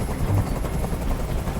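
A helicopter hovering overhead in Detroit: Become Human gives off a constant low, throbbing rotor drone, loud and steady with no voices.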